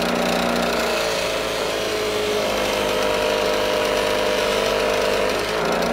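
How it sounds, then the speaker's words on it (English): A buffing wheel polishes metal on an Atlas lathe, giving a loud, steady, unbroken whirring hum with a coarse grinding texture throughout and no talk. "So some good polishing's happening now."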